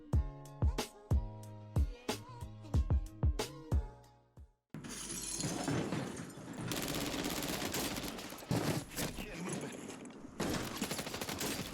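Submachine-gun-style rifle in Warzone 3 fires a rapid string of sharp, distinct shots in quick bursts for about four seconds, followed by a dense, noisy stretch of in-game chaos with breaking and impact sounds.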